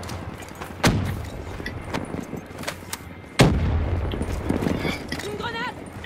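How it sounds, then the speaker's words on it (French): In Call of Duty Black Ops III multiplayer, a grenade launcher fires two heavy, booming shots a few seconds apart, each with a rumbling tail, over faint game noise and a brief voice. "On va tester le lance-patate."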